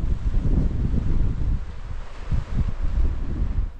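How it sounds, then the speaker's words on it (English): Strong, steady wind buffets the microphone at a seafront campsite, a continuous low roar with gusts swelling and easing, close and loud with no voices. "It's a bit too windy for the tent box."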